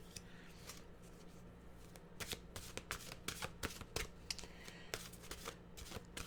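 Mantra cards being shuffled up close: a steady run of crisp riffling flutters and soft slaps, with no talking.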